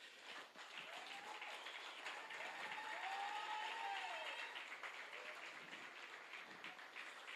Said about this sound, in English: I would really want you to get an astounding round of applause.